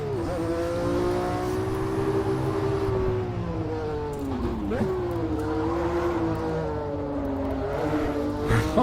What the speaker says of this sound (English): I hope you can hear my voice, but these engines.